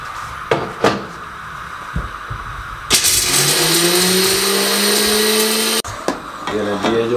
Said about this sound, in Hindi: इस तरह का एक मिक्सी का जार ले लें। इसके अंदर ये पिस्ते हैं 15 अदद शामिल कर दें और ये बादाम है 15 से 20 अदद, ये शामिल कर दें और इसको ग्राइंड कर लें